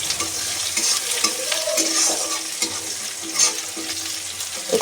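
Something fries in a pan until reddish, with a hissing sizzle and intermittent stirring scrapes and knocks, close and moderately loud, no voices.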